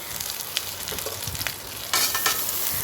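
Hot oil sizzles steadily in a pan with a few scraping stirs, and the hiss swells louder partway through.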